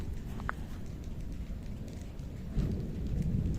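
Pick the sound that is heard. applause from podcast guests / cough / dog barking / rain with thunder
rain with thunder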